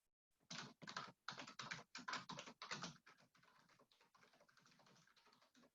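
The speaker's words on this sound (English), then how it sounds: "but I'm typing, so pardon me" Fingers type on a computer keyboard, a close, clear run of quick key clacks in clustered bursts that grow slightly softer toward the end, with no talk.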